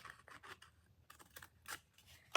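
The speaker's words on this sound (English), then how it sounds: "Then you grab some scissors and cut the flops there." Scissors snip through paper for a dragon puppet in a series of quiet, close, crisp cuts and rustles, irregularly spaced, ending in a sharper snip.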